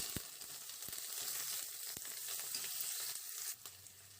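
Urad dal and mustard seeds fry in hot oil, giving a faint, steady sizzle with a few soft pops and no talking.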